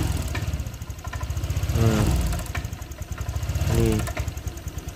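Honda Vario 125 fuel-injected scooter engine idling close up with a steady low chugging rhythm, sputtering and stumbling twice as revs briefly rise and sag.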